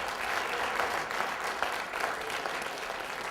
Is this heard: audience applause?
yes